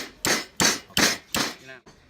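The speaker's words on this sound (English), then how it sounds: "Those are chilies. Smash." Four heavy pounding thuds come one after another as chilies are smashed, probably in a Thai cooking class in Chiang Mai, each strike close and loud, followed by a brief voice.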